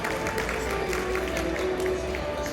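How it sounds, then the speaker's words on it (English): Applause and crowd noise fill a hotel function room during an awards night, a steady, dense wash of clapping with no break. "A big round of applause."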